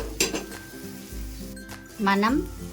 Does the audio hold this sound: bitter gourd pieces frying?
yes